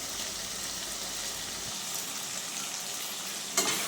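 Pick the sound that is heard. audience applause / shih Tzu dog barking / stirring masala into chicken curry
stirring masala into chicken curry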